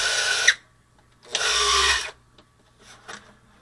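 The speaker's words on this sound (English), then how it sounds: "Just keep drilling till I reach the red mark there." Two bursts of a small power drill whirring into a model aircraft wing, the second longer and steadier, followed by faint scraping and tapping.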